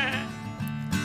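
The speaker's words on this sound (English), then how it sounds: "I have a sheep." A sheep gives a short, wavering bleat, close and clear, in two quick pulses.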